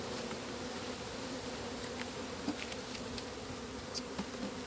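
A dense, steady drone of a honeybee swarm buzzing at a hive during beekeeping work, fairly faint and continuous, with a few individual bees passing near.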